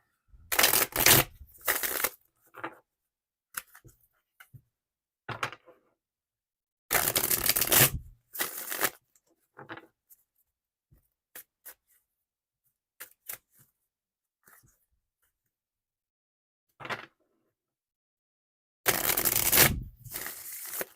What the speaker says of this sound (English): Whew, okay, last shuffle.